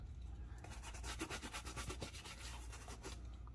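Mink oil is rubbed into a leather shoe with a cloth or brush in quick repeated strokes, a close scratchy rubbing rhythm lasting about three seconds between quieter moments.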